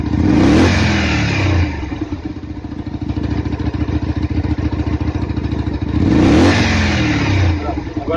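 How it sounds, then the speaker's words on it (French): Car engine idling with a steady rattling rumble, opening and closing with sharp throttle blips that rev it up loudly before it settles back, close and alone. "si on met un tout petit coup d'accélérateur, enfin un tout petit coup de gaz, on sent le moteur qui part"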